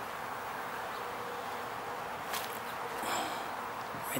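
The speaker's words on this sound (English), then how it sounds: "Okay, here's a wasp." A wasp buzzing faintly and close by in the open, a quiet, continuous drone with light rustling and a few soft taps in the background.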